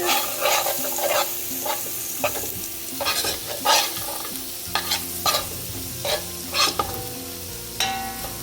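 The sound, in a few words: frying spices in a pan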